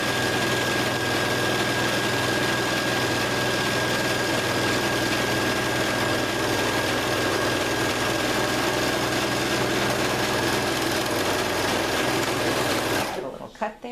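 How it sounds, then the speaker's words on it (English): A Juki MO-1000 serger runs at a fast, steady drone, stitching and trimming the fabric edge of a Christmas garden flag, then stops abruptly near the end. "the serger is going to take care of that and give us a nice pretty finish"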